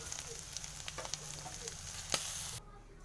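Dried sapsap fish sizzling and frying in a pan, a steady close crackle of hot oil with small pops, ending abruptly as the sound cuts off near the end.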